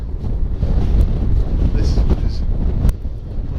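Strong wind roars and buffets the microphone on a steep hillside climb in the Lake District near Helvellyn, a loud continuous rumble while a person briefly speaks.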